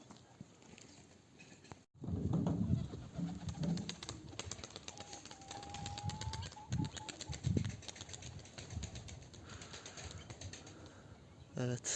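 Pigeons flap their wings in soft, scattered bursts outdoors, faint and somewhat distant against a low background rumble.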